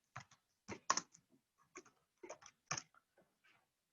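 Sparse keystrokes on a computer keyboard while entering text in scheduling software, a few quick clicks at a time with short gaps between bursts, quiet and close.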